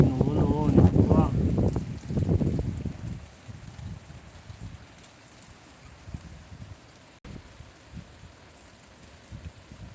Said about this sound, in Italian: a Salerno ragazzi piove, c'è anche un po' di vento